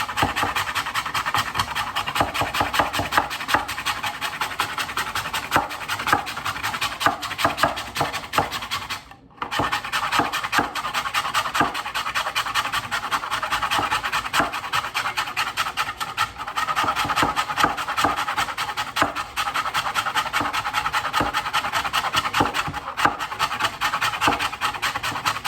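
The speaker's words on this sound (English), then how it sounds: "Cheese grater. Frozen ginger." Frozen ginger root scraped across a metal cheese grater in a home kitchen, a steady rapid rasping that continues close and loud with only a brief pause.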